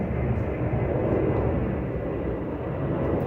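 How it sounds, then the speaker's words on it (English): An airplane passes overhead as a broad, steady roar that stays loud and even throughout, with no voices. "We've got a bit of a plane going over."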